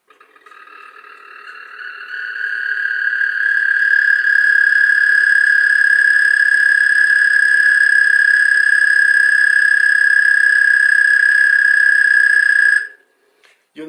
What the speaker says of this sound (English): So here is the song of an American toad.